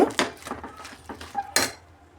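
Plates and dishes clatter in a home kitchen after the stove is turned off, with several sharp ceramic knocks and scrapes, the loudest near the end, as a plate is set down for a sesame chikki mixture.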